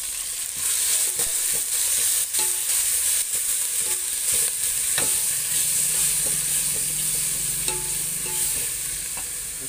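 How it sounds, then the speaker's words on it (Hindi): Two spoonfuls of ginger garlic paste frying in a hot pan while being stirred, a steady bright sizzle with scattered scraping clicks from the spoon, close and continuous, no talking. "अभी डालेंगे अपन आलम पेस्ट, अदरक लहसुन का पेस्ट डाल रहे हैं, दो चम्मच अदरक लहसुन पेस्ट डाल दिया।"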